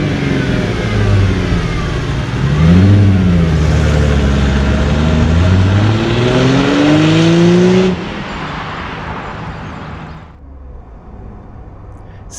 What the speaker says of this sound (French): je trouve que les V6 ils sont plus nerveux et ils répondent mieux quand on accélère